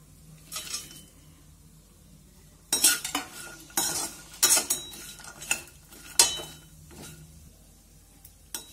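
A spoon scrapes and clinks in a pan as pistachios roast over low heat, with irregular close strokes and a faint dry sizzle underneath, no voices.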